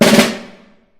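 A quick cluster of even snare drum rudiment strokes with no accents, ending in a short ringing decay that fades out within a second.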